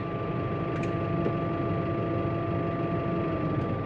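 A Honda Africa Twin motorcycle idling nearby, a steady low engine rumble with an even tone and a couple of faint clicks, no talking.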